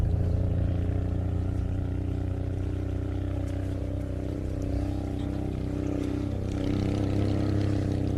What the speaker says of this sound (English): Sounds like she's got a little bit of an exhaust leak there, possibly a cracked header pipe or something like that.